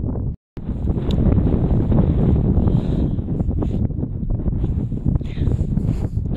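Icy cold wind buffets the microphone on a hilltop near a hillfort, a steady roaring rumble that cuts out briefly near the start and then blows on loud and unbroken.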